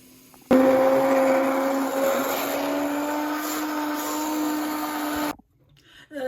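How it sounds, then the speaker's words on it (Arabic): A blender grinds potato and carrot soup with a steady, loud whir that runs for about five seconds, then cuts off abruptly. "نطحن الشوربه بعدها نحط لها البهارات نتاعها"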